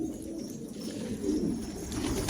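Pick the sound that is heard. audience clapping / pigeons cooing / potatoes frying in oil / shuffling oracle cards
pigeons cooing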